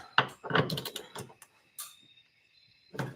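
A wrench turns a bolt on an S197 Mustang while a transmission mount is worked on, making a few close metallic ratcheting clicks and knocks in short bursts separated by quiet gaps.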